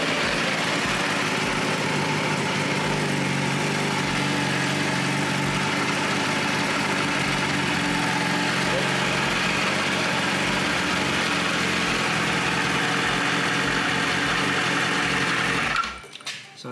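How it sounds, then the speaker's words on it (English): Yamaha R6 sport motorcycle engine idling steadily during throttle body synchronisation, a constant close mechanical drone that holds for most of the clip before cutting out abruptly near the end; no talking. "Start the bike."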